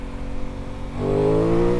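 A 2024 Aprilia Tuono 660 Factory parallel-twin motorcycle engine rumbles low, then revs up sharply halfway through into a rising, harmonic-rich roar heard close, with no voices.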